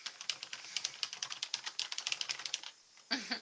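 Rapid, light clicking of a computer keyboard being typed on, an even run of close key taps that pauses briefly before a final soft burst.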